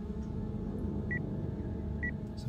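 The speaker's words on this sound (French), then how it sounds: "ça fait des bips quand les créatures sont proches" Two short electronic beeps from a video game's creature proximity detector sound a second apart over a steady low rumble, fairly quiet and evenly spaced.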